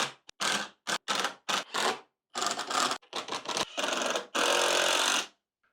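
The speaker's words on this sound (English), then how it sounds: "got things clamped up now for screwing it together" Power drill driving screws into clamped wooden deck step pieces, a series of short whirring bursts with gaps between them, followed by longer sustained runs as the screws seat, close and loud.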